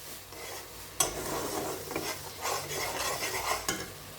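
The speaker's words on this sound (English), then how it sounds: "Make sure you cook the spices at a low to medium heat so it doesn't burn." Spices cook in oil in a pan over low to medium heat for a rohu fish curry, a soft sizzle broken by scraping stirs and a few sharp utensil knocks against the pan.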